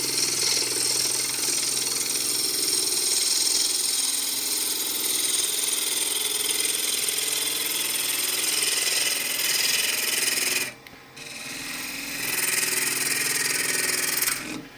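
Pear wood is being turned on a lathe with a spindle gouge, giving a loud, steady rough grinding and motor whine up close that breaks off briefly near the end before resuming.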